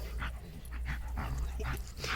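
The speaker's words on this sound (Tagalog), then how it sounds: "Sabi nila pag ganyan daw yung aso, masaya daw yan." A nearby dog whimpers and yips in a series of short, high, plaintive cries repeating roughly every half second over a low background rumble.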